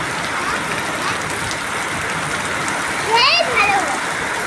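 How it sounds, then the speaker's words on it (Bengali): Heavy rain pours down in a dense, steady wash of sound, with a brief voice rising over it near the end. "এই দেখো কেমন বৃষ্টি হচ্ছে,"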